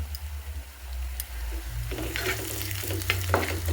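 Onion, garlic and grated ginger frying for a potato chicken curry in a village kitchen, making a close, steady sizzle with stirring scrapes over a low hum.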